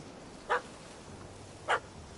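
A puppy in a PS4 video game gives two short, sharp barks about a second apart, fairly faint over a low background hum.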